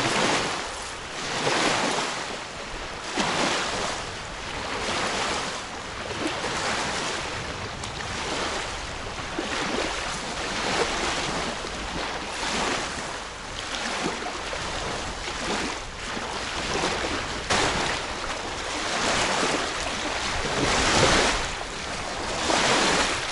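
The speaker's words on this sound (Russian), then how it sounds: "поднялся очень сильный ветер" Strong wind roars outdoors at a fishing spot, a continuous broadband rush with surging gusts that stays loud and unbroken for the whole stretch.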